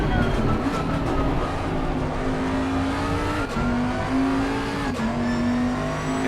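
Racing video game car held in second gear, its engine droning loud and steady throughout, pitch rising gradually and dipping briefly at gear or throttle changes, with faint voices underneath.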